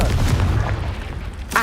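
A Confringo blasting spell in Hogwarts Legacy goes off as one loud, booming explosion that rolls on briefly, followed by a sharp second crack at the end, with no talk.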